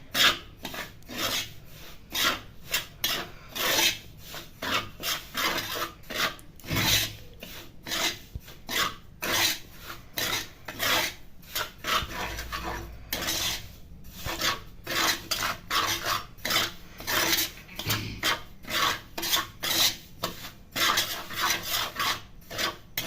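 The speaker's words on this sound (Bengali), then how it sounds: "সুজিটাকে একটু ভালো করে ভেজে নিতে হবে।" Semolina dry-roasting in a kadai, stirred continuously with a spoon, giving a steady dry rasping and scraping against the pan with rhythmic strokes, close and fairly loud throughout, with no talk.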